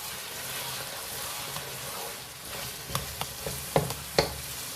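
Keema fries with tomato purée and fresh tomatoes in a pan, a steady hiss of sizzling under sharp spoon clinks and scrapes as the mix is stirred, close by.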